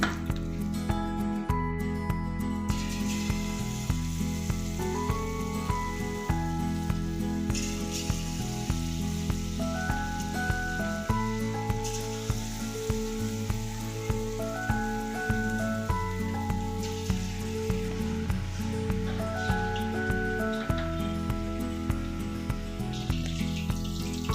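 Chicken pakoras deep fry in hot oil over a medium-to-high gas flame, giving a continuous crackling sizzle beneath loud background music.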